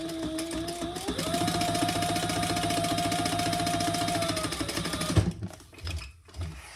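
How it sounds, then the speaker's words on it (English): A sewing machine stitching a small Barbie-sized leather wallet, running in one steady, close, loud whirring burst of rapid needle strokes for about five seconds, then stopping and leaving a few faint handling knocks. "And stitch under the second line."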